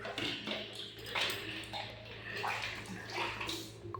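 A pet dog being bathed in water, close splashing and sloshing throughout with soft animal whimpers mixed in.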